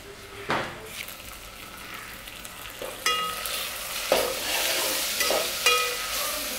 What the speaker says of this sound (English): It's very important to braise the onions well so it becomes one with the ginger garlic paste